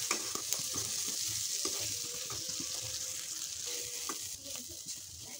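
Chopped capsicum, peas and green chilli fry in a pan with a soft, steady sizzle, with occasional light stirring clinks and scrapes and no talking.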